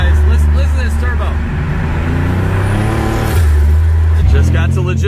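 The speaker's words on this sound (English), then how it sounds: "Listen to this turbo." A turbocharged car engine revs hard, giving a loud, dense roar that swells and dips over about five seconds, with muffled voice-like sound mixed into the noise.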